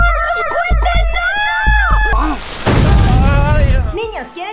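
Excited shouting voices on a children's entertainment show give way to a sudden loud firework-rocket burst, a broad whooshing blast that rolls into crackling noise beneath further shouting.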